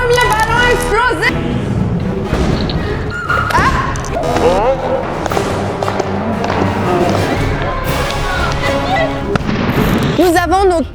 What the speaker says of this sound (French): Premier ballon explosé!